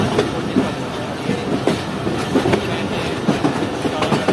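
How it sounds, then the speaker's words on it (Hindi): Jaffer Express passenger train crossing over points from the down main line to the up main line, heard from on board with repeated clickety-clack of wheels over rail joints and switches above a constant rolling rumble. "तो ये हमारी ट्रेन अब डाउन मेन लाइन से अप मेन लाइन से डाउन मेन लाइन की तरफ जा रही है।"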